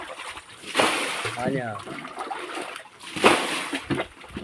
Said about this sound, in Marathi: आमचे बंधू पाणी उपसत आहेत